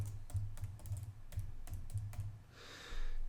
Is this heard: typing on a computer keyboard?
yes